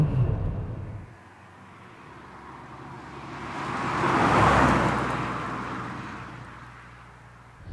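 A Peugeot 406 driving and changing down a gear, heard from inside the cabin. A steady road and engine drone swells into a rising surge around the downshift, then settles back to a low hum.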